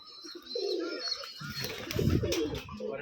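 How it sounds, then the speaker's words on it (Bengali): Pigeons coo in low, throaty bursts close by at a pigeon farm in Rajshahi, Bangladesh, one call early and a fuller rolling coo later, with soft chirps and rustling in the background. "এই যে সবুজ ভাইয়ের কবুতর খামার।"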